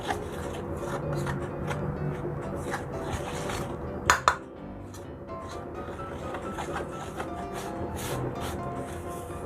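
Nutella chocolate swirl cookie dough is stirred in a bowl, a steady soft scraping and rubbing of utensil against the dish, with two sharp clinks near the middle.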